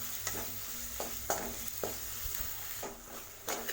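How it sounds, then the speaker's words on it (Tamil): Chili powder masala sautéing in a pan with green chilies, tomato and oil: a steady sizzle punctuated by regular scraping stirs roughly every half second, close and moderately loud, no talking. "மசாலா தூள்லாம் சேர்த்துட்டு இதை நல்லா மிக்ஸ் பண்ணி விட்டு வதக்கி விட்டுக்கலாம்"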